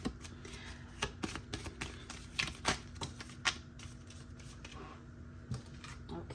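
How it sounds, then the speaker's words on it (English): A deck of oracle cards is shuffled by hand, giving a quiet run of crisp riffling and tapping bursts at an uneven rhythm over about six seconds. "So we are going to shuffle live on camera."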